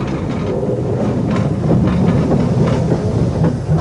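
Industrial steam locomotives move through a gasworks roundhouse shed, a saddle tank engine among them, giving a steady loud rumble and hiss with faint rhythmic rail clatter throughout, no voices.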